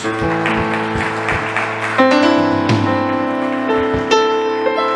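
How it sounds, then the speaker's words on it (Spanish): A church congregation claps for Jesus during a worship service, steady applause mixed with sustained music tones and a low rhythmic beat, fairly loud and without speech. "Dale un fuerte aplauso a Jesús"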